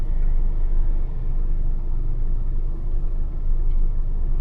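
A 1995 Acura Integra DC4 with a manual gearbox drives along twisty roads held in second or third gear, its engine giving a steady, loud low rumble with road noise in the cabin.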